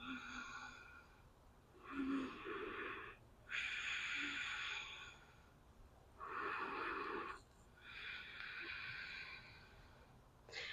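Slow, steady yoga breathing in a quiet room: long audible inhales and exhales alternate in an even rhythm, each breath lasting a second or more, close and soft, with no talking.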